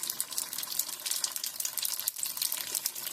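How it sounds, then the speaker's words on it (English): Steady hissing and spattering of water poured into a hot frying pan to steam dumplings, loud and continuous for a few seconds with no voices. "you're going to pour in about 1/4 cup of water"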